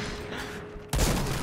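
Gunfire from the video game Point Blank bursts in as a sudden, loud volley of rapid shots partway through. Before it, only a quieter stretch of game ambience is heard.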